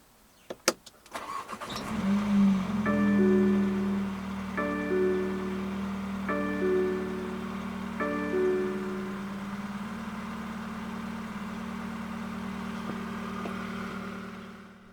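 A 2019 BMW X1 sDrive20i with keyless push-button start fires up with a quick cranking burst, then settles into a steady idle while a series of four chime tones sounds over the engine.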